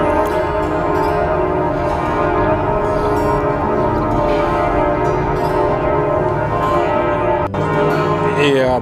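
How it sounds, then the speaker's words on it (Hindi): Church bells ring inside a church building on Kurfürstendamm in Berlin, a loud, dense, reverberant wash of overlapping tolling tones that fills the space continuously. "अब इसके अंदर में घंटियां बज रही हैं"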